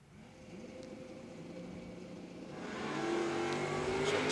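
Drag cars in qualifying, one a Capri, rev and launch at a distance, a rising engine roar that builds steadily louder toward the end.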